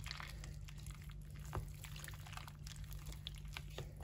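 Cold tap water runs and splashes continuously, faint and close, as boiled pine bolete mushrooms are rinsed for pickling, with a steady low hum underneath and small sloshing accents.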